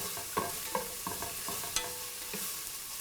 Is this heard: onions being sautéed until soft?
yes